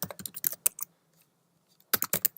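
Keys tapped on a Mac computer keyboard in two quick bursts of crisp, close clicks separated by a short silent pause.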